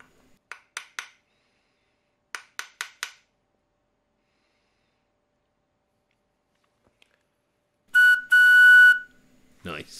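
Several short tapping bursts, then a clear, bright whistle tone from a homemade flute held for about a second, followed by a breathy low sound; otherwise quiet.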